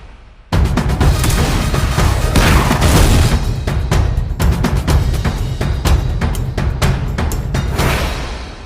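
Film explosions from a criminal gang's ship being blown up: a sudden loud blast followed by dense, continuous booming rumble and rapid crackling bursts that last several seconds without pause.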